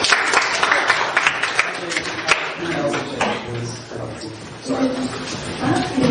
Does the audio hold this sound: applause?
yes